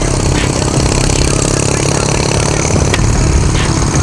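A car engine roars loudly and steadily after its exhaust has fallen off, a coarse, rattly drone close by with no break for the whole stretch.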